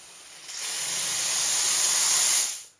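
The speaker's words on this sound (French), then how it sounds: "La mise en route de la vapeur s'effectue au moyen de la gâchette." An MV 4500 steam cleaner releases a steady, loud hissing jet of steam when its trigger is pulled, swelling quickly, holding for about two seconds, then tapering off.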